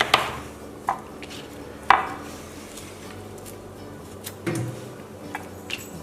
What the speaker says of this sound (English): And the neck part of it, right over here, you're going to cut that up in pieces.